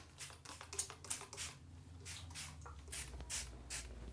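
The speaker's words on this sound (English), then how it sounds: "I'm going to spray some water a little bit on the roots of my hair" A handheld spray bottle misting water onto hair roots, a series of short, close hissing bursts in an irregular rhythm, quiet and with no talking.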